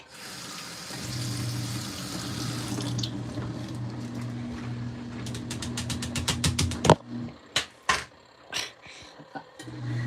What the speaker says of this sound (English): Oh, I got some suds in the cover lid. I'll rinse it out.